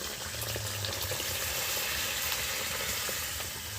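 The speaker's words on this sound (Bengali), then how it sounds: "এবার এর মধ্যে দেখুন জল দিয়ে দিচ্ছি" Water poured into a hot kadai while fried rice is being made, giving a loud, steady hiss and sizzle that fills the whole moment without a break.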